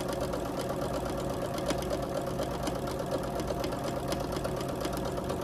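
A sewing machine runs steadily, stitching a quarter-inch seam along a drawn line on a quilt block of patterned fabric, a continuous mechanical hum with fine rapid clatter, close and alone without talk.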